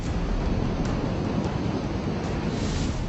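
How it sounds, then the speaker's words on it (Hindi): Strong wind from Cyclone Phailin roars continuously with heavy low rumble and buffeting, a dense, unbroken storm noise with no voices. "आसमान में हाहाकारी हवा,"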